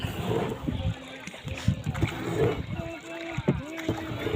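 A rowboat moves on water with soft sloshes and splashes, close by, while people talk over it and wind brushes the microphone.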